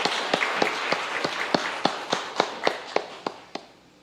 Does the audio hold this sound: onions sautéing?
no